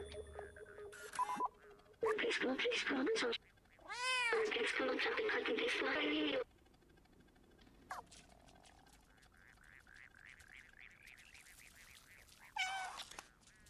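Injured cat in the video game Stray gives several meows amid game sound effects and music, loud bursts alternating with quieter stretches, with no one talking over them.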